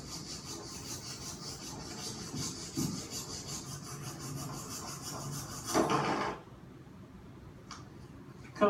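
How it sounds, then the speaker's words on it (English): A regular wood saw cuts through a brittle block in a steady run of close, rasping back-and-forth strokes that stop abruptly, followed by a few faint ticks. "A regular wood saw will be able to cut through the block"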